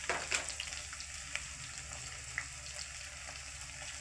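Ginger paste frying in a pan of oil, a soft, steady sizzling hiss with a few faint ticks and pops, fairly quiet and continuous.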